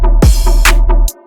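Loud dubstep growl bass call with an automated LFO rate, wobbling in rapid pulses with sweeping formant-like bursts and a sudden stop at the end, heard alone.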